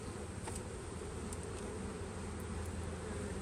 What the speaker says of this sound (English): I would call it almost 2 full frames of bees right now.